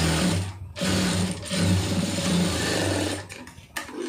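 Sewing machine stitching a blouse, a close, steady motor whir with rapid needle chatter running in bursts and brief pauses, no talk over it.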